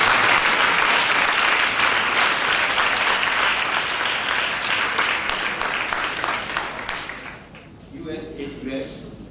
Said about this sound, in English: with a round of applause, let's welcome him to chair this program